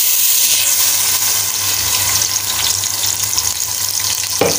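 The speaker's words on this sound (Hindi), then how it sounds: "अब इसके अंदर हमने जो प्याज ग्राइंड करी थी ना वो डाल देंगे।" Ground onion paste frying in hot ghee for keema with green beans, a loud, steady close sizzle and crackle that runs throughout, with a brief clatter near the end.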